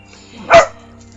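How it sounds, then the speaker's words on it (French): A single loud, close dog bark rings out once indoors, a short sharp burst standing alone against a quiet background. "désolé pour le chien qui aboie"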